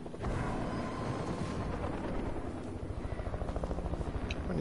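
Helicopter in a video game, a loud, steady rotor drone filling the whole stretch with a throbbing chop that grows more pulsed toward the end, with faint booms and gunfire around it.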